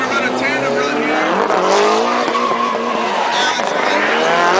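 A drift car spins donuts around a photographer at a 2005 drifting event at Atlanta Motor Speedway, tires squealing loudly and continuously over a wavering revving engine, close and sustained with an announcer talking over it.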